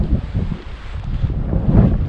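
Strong gusty wind buffets the microphone outdoors during paraglider ground handling, low rumbling surges that swell and ease, loudest toward the end, with no speech.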